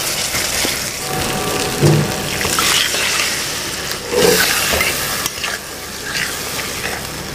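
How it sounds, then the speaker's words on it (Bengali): Loud, steady sizzle of a pan as water and potatoes go in while cooking chitol fish curry, with stirring scrapes and bursts of hissing steam running throughout, no talk. "আমি একটু সামান্য জল দিয়ে এইবার এর সঙ্গে আমি আলুগুলো দিয়ে দেব"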